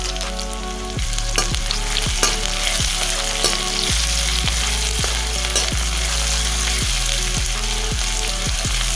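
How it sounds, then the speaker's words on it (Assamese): Dried chilies fry in hot oil with garlic paste for a duck meat curry, giving a loud, continuous close sizzle with regular, rhythmic scraping strokes as the pan is stirred. "শুকান জলকীয়া কিটাও দি দিলো দি অকমান লৰাই দিম"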